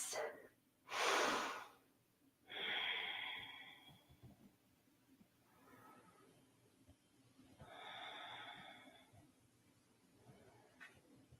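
Slow, deep breaths during a relaxing yoga session, a few audible inhales and exhales spaced several seconds apart, close and soft with quiet pauses between them.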